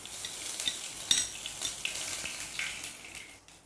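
Cumin seeds and ajwain dropped into hot mustard oil in a kadai, giving a bright crackling sizzle with small pops that fades over a few seconds, close and with no talking.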